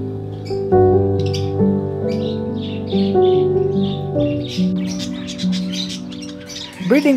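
Pet parakeets in a backyard breeding cage chirp and tweet continuously in quick, overlapping calls, close and lively, with a louder squawk at the end.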